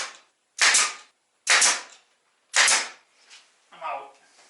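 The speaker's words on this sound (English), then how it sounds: "drive a nail in, going through the border into the plywood" Pneumatic nail gun driving nails through a reclaimed wood border into plywood: three sharp, loud pneumatic shots about a second apart, followed by softer handling clatter and a brief voiced sound.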